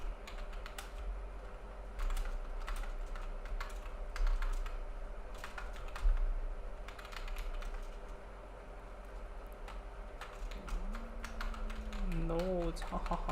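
Steady computer keyboard typing clicks away during a programming session, close and continuous over a low hum, with a brief voice sounding near the end.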